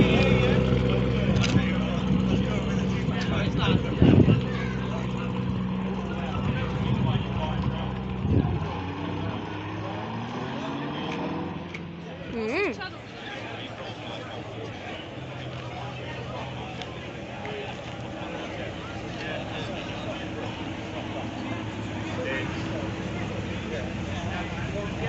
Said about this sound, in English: Got the Porsche Carrera going there